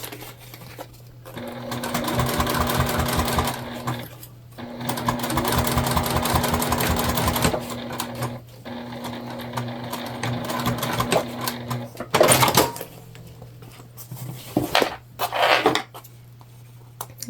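A sewing machine stitches a sling's turn hole closed an eighth of an inch from the edge, running in several long, steady bursts separated by short pauses, with a steady hum beneath and a few clatters near the end.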